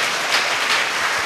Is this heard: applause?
yes